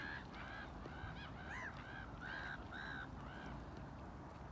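A swan calls repeatedly in short nasal honks, roughly one or two per second, fairly near, over a steady background of water and outdoor noise.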